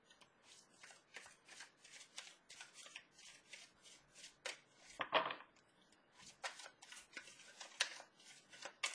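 Tarot cards being shuffled by hand, a rapid series of soft riffling flicks with one fuller riffle midway, quiet and close.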